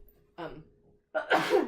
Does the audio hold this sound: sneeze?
yes